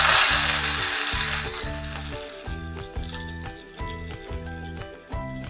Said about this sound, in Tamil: இப்போ நம்ம கடுகு உளுத்தம்பருப்பு போட்டு தாளிச்சிடலாம்.